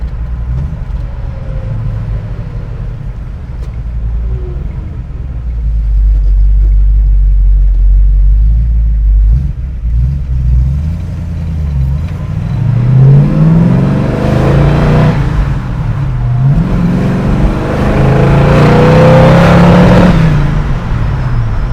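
A 1968 Shelby GT500 V8 engine with a 4-speed gearbox rumbles low and steady while driving, then revs up with rising surges as it accelerates through the gears, loud and close.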